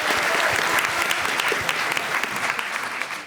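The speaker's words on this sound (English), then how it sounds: "A big round of applause." Loud, sustained audience applause after a startup pitch at a competition, dense clapping that holds steady and eases slightly toward the end.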